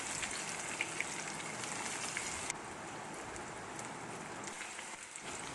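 Chopped onions frying in hot oil with garlic and curry leaves for a Kerala-style chembu curry, giving a steady dense sizzle and crackle throughout, loud and close, with a brief shift in texture midway and no talking.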